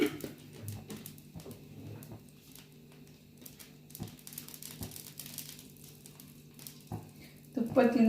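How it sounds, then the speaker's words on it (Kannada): Ghee spooned around a thick homemade dosa on a hot pan gives a soft, steady sizzle with faint crackles, a few sharper clicks and a louder burst of frying near the end. "ಸ್ವಲ್ಪ ತುಪ್ಪ ಹಾಕೋಣ ಹಿಂಗಡೆ."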